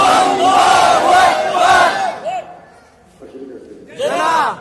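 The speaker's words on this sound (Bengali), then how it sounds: "স্লোগানের একটা সুর আছে, নারায়ে তাকবীর।" A crowd at a madrasa gathering in Kachua chants the Nara-e-Takbir slogan in unison, several loud rising call-and-response swells, then a short pause and one more strong collective shout.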